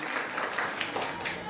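An audience gives steady, fairly soft applause to welcome a guest onto the stage at a prize event about Mahatma Gandhi, a continuous patter of claps throughout.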